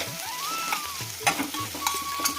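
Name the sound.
stirring chicken while cooking with chilli powder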